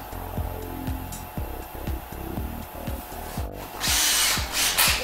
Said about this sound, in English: And drill it nice and square right here in the middle.